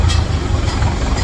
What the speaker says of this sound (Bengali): দেখতেই পাচ্ছেন আমাদের এই মুহূর্তে একটু জামে বলছে গাড়িটা